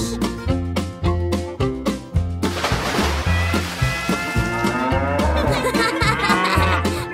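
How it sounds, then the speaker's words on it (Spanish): A cow-like moo sounds over a bouncy children's nursery-song backing with a steady beat, the low lowing call standing out clearly in a lively, cartoonish arrangement of Old MacDonald Had a Farm. "Con un mu aquí, con un mu allá."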